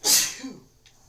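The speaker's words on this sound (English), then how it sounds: "About to sneeze again." A single sharp, close human sneeze, a loud burst that quickly fades into a faint breath.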